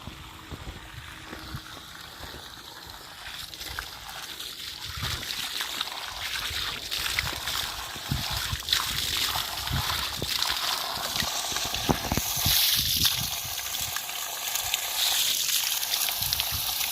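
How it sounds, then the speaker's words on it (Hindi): Dirty water gushes from the outlet of a submersible water pump running at about 50 litres per minute, a continuous broadband rush and splatter that holds steady and grows slightly louder, close by. "यहाँ से आप ये दे रहे हैं 50 लीटर पर मिनट पानी। तो पानी बहुत गंदा आ रहा है।"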